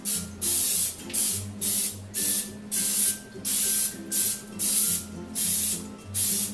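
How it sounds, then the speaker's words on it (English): Pam original cooking spray is sprayed liberally inside a cake pan in about ten short, loud hissing bursts with brief gaps between them, close up and with no talking. "Coat the inside of the pan liberally with cooking spray. I'm using Pam, the original"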